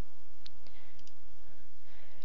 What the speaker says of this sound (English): I'm going to click Cancel